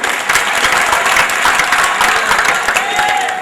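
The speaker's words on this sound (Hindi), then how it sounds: "बात अच्छी लगे तो तालियां बजाना" A theatre audience breaks into loud, sustained applause at a Hindi comedy stage show, a dense steady wash of clapping hands with no voices over it.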